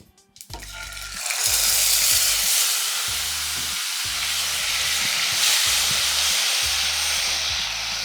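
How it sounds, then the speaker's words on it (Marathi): Cumin and mustard seeds hitting hot oil for tomato rice, a sudden loud hiss that swells into a steady, bright, close sizzle lasting throughout, with a rhythmic low thumping underneath. "आता तेल गरम झालं की आपण त्याच्यामध्ये जिरे मोहरी टाकून घेऊया"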